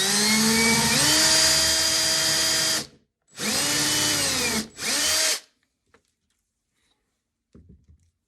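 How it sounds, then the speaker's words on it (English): A power drill with an 1/8 inch bit whines loudly in three bursts while drilling a hole for an arcade controller upgrade, the first long and the next two shorter, each winding up and down, followed by near silence. "So I'm going to go ahead and drill that"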